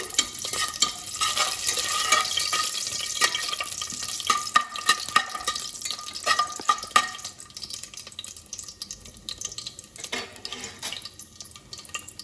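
Cinnamon, cloves, cardamom and bay leaves are stirred in hot oil for biryani, a close sizzle under repeated scraping and clattering spoon strokes that keeps going throughout, with no talk.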